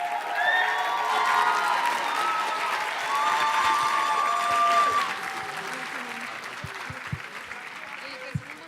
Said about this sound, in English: Let's give a big round of applause for Infinity.